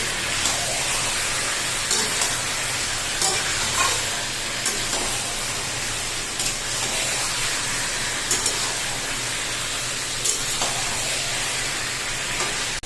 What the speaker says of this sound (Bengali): পেঁয়াজের সঙ্গে একটু খুব ভাজবো না এবং হাই হিটে একটু মেরে দেবো